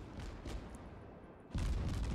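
Heavy booming naval cannon blasts in World of Warships, one near the start and a louder one toward the end, with rumbling low echoes between them.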